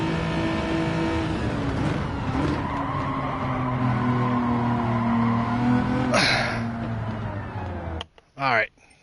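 A race car tearing around The Mountain circuit in Gran Turismo 7, its engine droning at high revs with shifting pitch and tire squeal, loud and continuous before cutting out abruptly near the end with a brief burst after.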